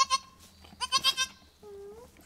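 A newborn goat kid bleats in a barn just after birth, giving short wavering cries, some high and thin and one longer, near and fairly quiet with no clear talk.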